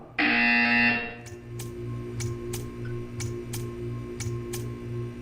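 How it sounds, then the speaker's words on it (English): In Portal 2, a loud harsh buzzer blares for about a second, followed by a rhythmic mechanical pulsing hum with regular sharp ticks, no voices. "You will hear a buzzer."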